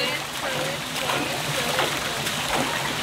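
Cold water splashes and sloshes steadily over someone outdoors, a continuous wet spattering with voices talking over it.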